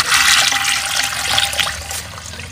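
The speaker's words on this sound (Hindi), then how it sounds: "थोड़ा थोड़ा पानी उठाएंगे।" A bucket drawing water up from a village well, with steady splashing and sloshing of water close by, continuous and loud throughout without speech.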